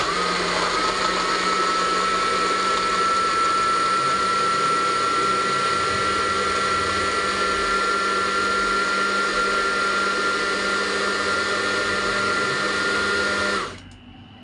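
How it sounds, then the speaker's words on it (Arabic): A blender blending guava, banana and milk juice runs steadily at high speed, a loud continuous whirring motor with a tonal whine, cutting off abruptly near the end. "وبعد ما ضربته في الخلاط"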